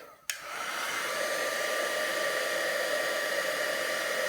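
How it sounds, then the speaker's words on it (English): An embossing heat tool switches on with a click and then blows a steady, loud whooshing hiss that holds evenly to the end. "Just heat it with a heat tool"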